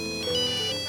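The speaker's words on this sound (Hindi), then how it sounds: "क्या निवेदिता का फोन है ना, अवॉइड क्यों कर रही?" A mobile phone ringtone plays loud and continuous for the full second, with sustained layered musical tones and no voices.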